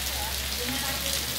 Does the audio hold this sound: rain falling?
yes